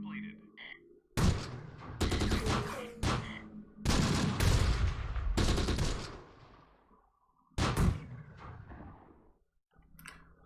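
Gunfire in the Close Combat: The Bloody First video game: loud bursts of rifle and machine-gun fire and sharp cracks come in separated volleys with quieter gaps between them, and a voice is briefly heard.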